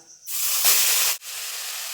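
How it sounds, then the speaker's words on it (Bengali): A loud burst of sizzling hiss as onion paste hits hot oil, steady and close, briefly cutting out before the frying hiss resumes. "এবার দিয়ে দেবো পেঁয়াজ বাটা"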